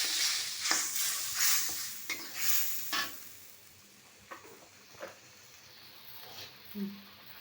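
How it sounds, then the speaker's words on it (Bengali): New potatoes fry in hot oil in a home kitchen, giving a soft continuous sizzle broken by repeated stirring scrapes, fairly quiet and close, with no talk over it. "নতুন আলুটা এইভাবে ভাজছি তেলে"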